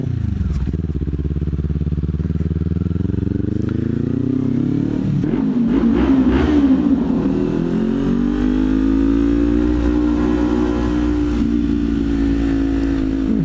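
A Kawasaki Z400 motorcycle engine idles steadily, then revs up and holds a higher, droning pitch, close and loud throughout with no talking.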